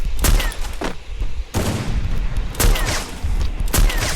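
Rapid gunfire bursts in the Free Fire battle game, with close, loud volleys repeating every second or so over ongoing game noise.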